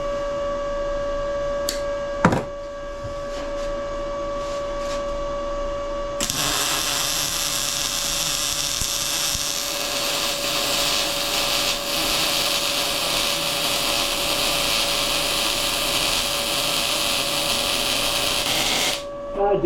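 An Arccaptain MIG200 MIG welder laying a bead on steel, a loud continuous crackling hiss that starts after a few seconds of quieter sounds and runs steadily for over ten seconds before cutting off.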